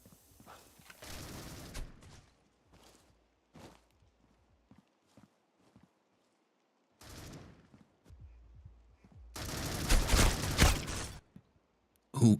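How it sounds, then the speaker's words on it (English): Scar rifles fire during a competitive video game match, with short scattered bursts and single shots, then a loud sustained volley near the end, separated by quiet gaps. "Christian firing a couple shots, not connecting on anybody"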